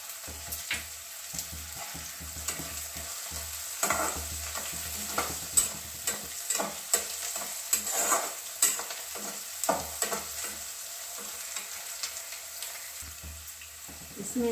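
Kalonji and ajwain lightly frying in a pan for potato-semolina kachori, a continuous soft sizzle punctuated by frequent scraping and clinking stirring strokes, moderately close.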